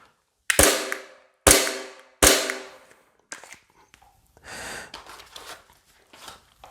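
WE Glock 19 Gen4 airsoft pistol firing until the magazine runs empty: three sharp, loud, evenly spaced shots, then softer clacks and mechanical shuffling noises.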